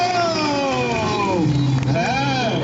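At a motorcycle wheelie show in Fortaleza, a crowd cheers and shouts for a rider, loud and close, with voices and a rising whoop over a steady crowd roar.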